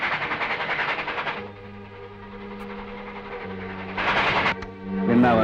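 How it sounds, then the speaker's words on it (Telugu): A train rumbles and hums over a phone line in a film scene, a droning tonal throb with muffled voices at the start and end. "ఒక్కసారి రైల్వే సౌండ్ విని."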